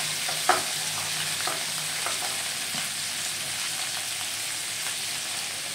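Sliced potatoes with onion greens fry in a pan, a soft continuous sizzle with a few scraping stirs near the start, fairly quiet and with no talk.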